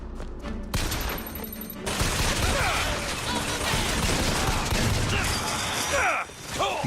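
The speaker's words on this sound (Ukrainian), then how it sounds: "Довбаний автомат" Machine gun fire in the video game Bioshock Infinite comes as dense, loud rapid bursts of shots mixed with clanking mechanical noise and crashes, running for several seconds over a busy game soundtrack.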